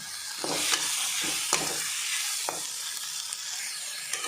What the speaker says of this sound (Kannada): ತುಲೆ ಟೊಮೆಟೊ ಈತ ಫ್ರೈ ಆಯ್ನ